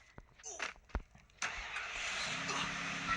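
A car engine in the Free Fire video game starts up after a few clicks and brief voices, then runs in a steady, continuous drone to the end.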